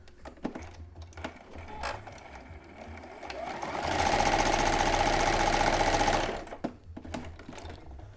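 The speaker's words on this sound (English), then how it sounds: "First, I just need to close the darts using a straight stitch" Sewing machine running a straight stitch to close the darts on a bralette, one continuous steady whirring burst of about two seconds between scattered handling clicks and quieter stretches.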